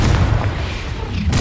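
A fiery Incendio spell blast goes off in the video game Hogwarts Legacy, a loud, heavy booming burst that rumbles low throughout the short moment with no talk over it.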